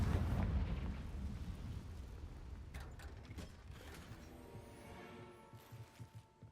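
A Confringo fire-blast spell in Hogwarts Legacy goes off with a deep booming burst at the start, then a rumbling, crackling tail fading over several seconds, with faint mechanical clicks near the end.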